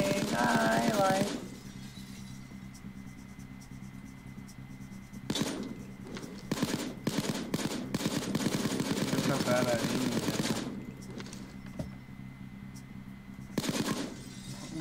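Bursts of automatic gunfire in the video game Payday 2 come in short volleys separated by quieter stretches of game ambience, with rapid repeated shots near and fairly loud.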